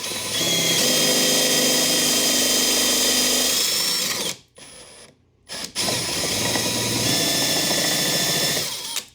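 A drill runs a Star-M countersink bit, cutting at 45 degrees. It whines loudly and continuously and pitches down under load, with a brief pause midway before it resumes.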